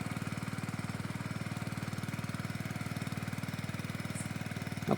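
A tractor engine on a banana farm runs at a steady idle, with a fast, even, low knocking beat that holds unchanged throughout and is heard alone.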